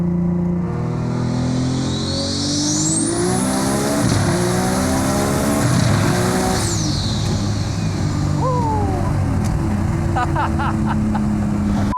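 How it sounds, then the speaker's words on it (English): A 1300hp Nissan R32 GTR pulling hard, its engine climbing through the revs with a loud, sustained roar, a rising turbo whine and sharp bursts as it strikes the rev limiter, heard close and continuous. "That rev limiter comes much faster now."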